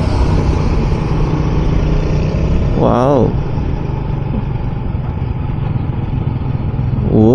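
A motorcycle engine rumbles steadily while riding on the Tagaytay-Talisay road near Taal Volcano, with someone talking over it and a brief exclamation, and a rising rev toward the end.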